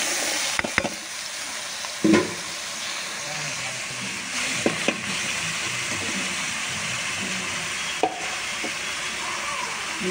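Bottle gourd pieces with onion frying in a pan, a steady sizzle broken by several sharp clinks and scrapes of a spatula against the pan, close and fairly loud, with no voices.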